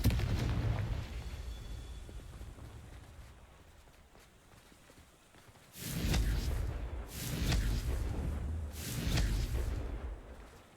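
The Confringo fire spell in Hogwarts Legacy bursts into three heavy explosive booms with rumbling tails, following a quieter stretch of low game ambience.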